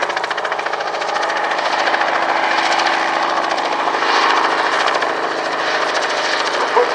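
A 1957 Bristol 171 helicopter, once a Luftwaffe VIP transport, runs at an airshow with a loud, steady engine drone and rapid rotor chop that holds constant throughout.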